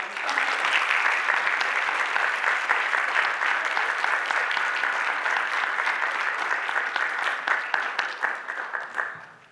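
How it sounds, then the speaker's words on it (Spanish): Sustained applause from an audience at a university law conference honouring a teacher: steady, dense clapping that stays loud for about nine seconds before trailing off, with no talking over it. "Le damos un fuerte aplauso a la maestra."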